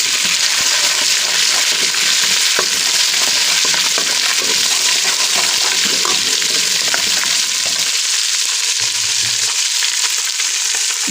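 A paste of onion, tomato and green chili is loudly sizzling and frying in a pot with garlic and ginger for a white beans and chicken korma. A continuous, close hiss with occasional stirring scrapes plays throughout.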